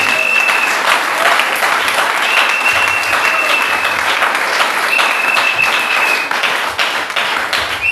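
A congregation applauding inside a church, dense sustained clapping from many hands filling the room loudly and evenly, with a high sustained tone sounding intermittently above it.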